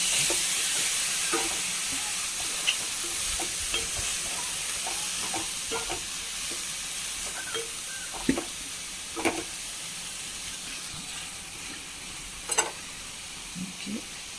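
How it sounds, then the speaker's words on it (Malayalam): Long beans being stir-fried with salt in a pan, giving a steady close sizzle with scattered scrapes and clicks of a spoon stirring through the vegetables, with no talking. "ഉപ്പിട്ട് കൊടുത്തു നന്നായി ഇളക്കി യോജിപ്പിക്കാം"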